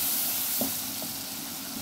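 Garlic browns in hot oil in a pot, giving a steady, close sizzling hiss with a couple of faint soft pops.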